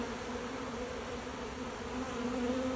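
A honey bee swarm fans and scents at a box, producing a continuous, even buzz with sustained tones, close and fairly quiet.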